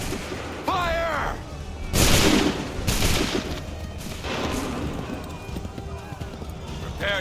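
Musket volleys crackle in Assassin's Creed 3 as massed soldiers fire on command, with two loud, ragged bursts of gunfire amid battlefield noise and a shouted order.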